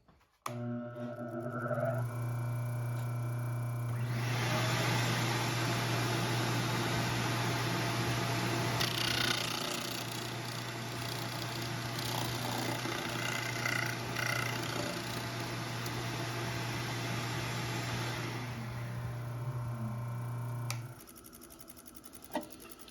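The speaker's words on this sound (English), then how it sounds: "then we're going to turn this on. We're going to turn the shop vac on" A 12-inch bench disc sander and a shop vac start up together and run as a steady, loud, droning whine with a low hum for around seventeen seconds, then spin down, with no talk.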